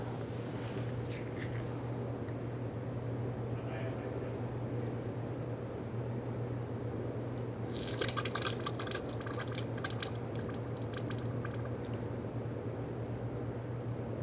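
Brake fluid dripping into a drip pan during a front brake hose replacement on a 2014-2018 Subaru Forester, with faint irregular drips over a steady low hum and a brief louder patch of splashy liquid noise midway.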